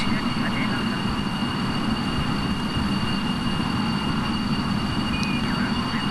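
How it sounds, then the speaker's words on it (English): Steady whine and roar of VTOL jet engines lifting a craft off in Kerbal Space Program, a continuous loud drone with high tonal hums held throughout. "click on the VTOL engines, so that I have good aerodynamic control over this craft as it takes off"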